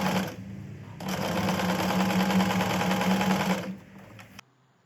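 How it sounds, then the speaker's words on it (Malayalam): Electric sewing machine double-stitching the shoulder seam of a kurti, a fast steady whirring chatter that starts, briefly pauses, then runs continuously for about three seconds before stopping. "ഷോൾഡറിൻ്റെ പോർഷൻ ആയതുകൊണ്ട് ഞാൻ ഇവിടെ ഡബിൾ സ്റ്റിച്ച് കൊടുക്കുന്നുണ്ട്."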